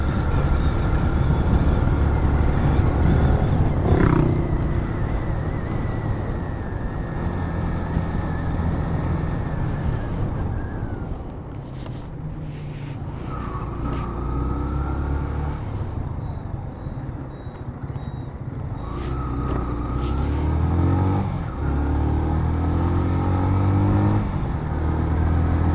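Iranian-made cars on a road near Taftan drive past, a steady broad engine and road roar with wind buffeting the microphone and a couple of louder passes swelling and fading, no talk.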